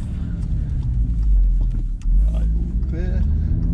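An Audi RS3 engine revs hard through downshifts and upshifts, a loud, close, deep rumble that rises and falls with each gear change.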